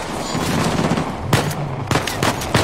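Gunfire in the video game Uncharted: The Lost Legacy rattles in rapid, loud bursts, with sharper single cracks at intervals against a steady rumble of battle.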